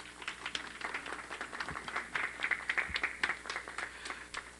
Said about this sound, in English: Would you give her a round of applause as she comes?